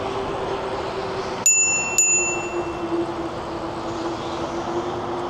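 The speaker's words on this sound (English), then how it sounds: "we're gonna have to hit them with the bell here because they're in the middle" A bicycle bell on a forest preserve trail rings twice in quick succession, sharp and close, over a steady rolling hum of riding.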